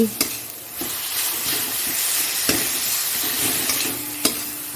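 Tomatoes and sugar sizzle in a frying pan on a home stove, a loud, steady fry with a few sharp clatters of stirring scattered through it.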